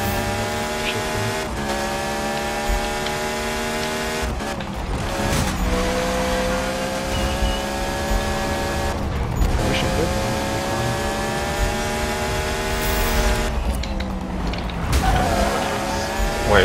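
Beck Kustoms F132 formula car in Need for Speed, a high-revving race engine droning steadily throughout with repeated sharp gear-shift dips and rising pitch sweeps, loud and continuous, with a voice talking over it.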